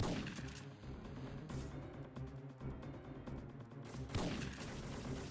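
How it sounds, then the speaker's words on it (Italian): Hooded enemies fire on the player in the Syphon Filter 3 video game, with rapid, dense bursts of gunshots crackling over busy game noise, bunched volleys that break briefly and then resume. "Che non mi credono e mi sparano."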